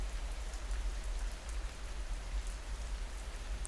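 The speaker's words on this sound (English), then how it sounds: "lost in the soft falling rain" Soft rain falling over an old salt way between limestone walls in the Cotswolds high wold, a faint, steady patter with no voices.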